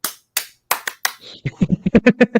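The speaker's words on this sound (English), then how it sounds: "You're getting cheers. You're getting claps." Handclaps, a few sharp separate claps at first, then a quicker run of rhythmic claps, close and clear with a brief voice between them.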